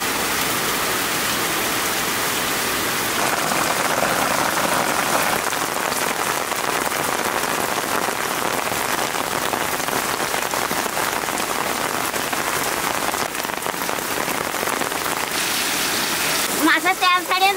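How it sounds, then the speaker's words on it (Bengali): Steady, dense rain pours down outdoors in the background while a Bengali dish of raw hilsa fish with water lily stems cooks, a continuous hissing wash with a few sharper clattering sounds near the end. "বৃষ্টি চলে আসে"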